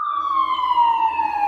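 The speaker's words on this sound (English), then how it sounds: "here comes an ambulance. Do you hear that?" An ambulance siren passes outside as a single steady, loud wailing tone that slowly drops in pitch, with faint traffic rumble underneath and no talking.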